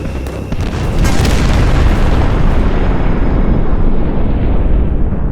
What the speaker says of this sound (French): Un boulet de canon prussien frappe un wagon de munitions.